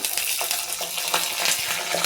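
Tempering for a tomato, fenugreek-leaf and mint chutney: cumin, mustard seeds, dried red chillies, urad dal and curry leaves crackle and sizzle in hot oil, a close, continuous bright hiss with small pops.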